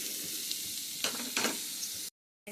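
Mushrooms fry in a little oil in a pan, with a steady close sizzle and a couple of stirring scrapes before the sound cuts off briefly.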